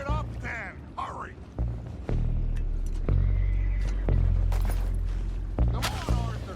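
Horses whinnying in a video game, a couple of shrill neighs early and near the end over deep rumbling and clattering action, with voices talking through it.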